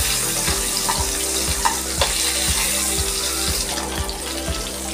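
Salted, turmeric-rubbed koi fish fry in hot oil in a wok as they are flipped, a steady crackling sizzle running under a regular, low rhythmic thumping pulse from nearby.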